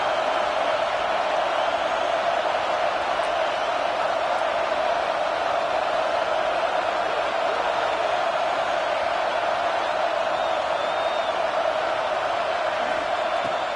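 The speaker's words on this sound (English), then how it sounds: "This crowd bringing the energy and noise early." A dense, steady stadium crowd in a college football video game roars continuously at a constant level, with no distinct cheers or calls standing out.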